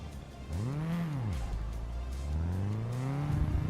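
Race car engine in the video game RaceRoom revving up and down through gears, rising and falling pitch sweeps, close and continuous with faint tire noise.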